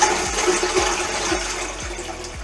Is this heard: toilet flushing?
yes